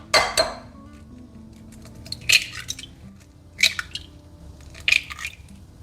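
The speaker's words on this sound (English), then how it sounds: "Crack in 3 eggs." Three eggs cracked one after another into a bowl in a home kitchen, each a sharp close tap with a small wet splat, spaced a second or so apart over a quiet background.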